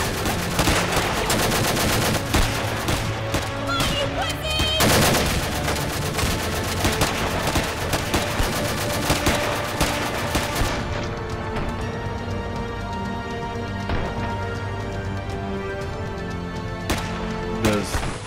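Gunfire in a heist film scene: loud, sustained machine-gun bursts and crashing impacts with a musical score running underneath, and no one talking.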